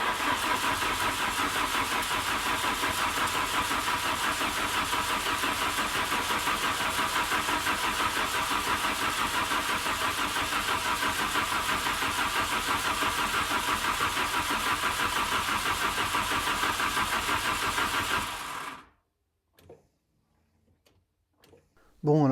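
A Volkswagen Corrado 16V cranks and turns over in a long steady drone lasting about eighteen seconds, then cuts off abruptly into near silence.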